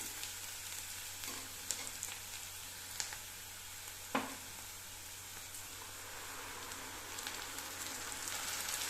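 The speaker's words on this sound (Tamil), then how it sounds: "வெங்காயம் பாதி வதங்கின ஸ்டேஜில் அரைச்சி வச்ச தக்காளி சேர்க்க போகிறோம்" Onions and ground tomato sautéing in a pan for a green peas fry, a soft continuous sizzle close by with a few sharp clinks of a spoon against the pan, no voices.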